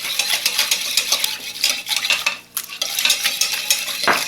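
A spoon stirs a marinade of sugar, salt, spices, onion and vinegar in a bowl, giving close, continuous scraping and swishing strokes in an uneven rhythm, with no talk.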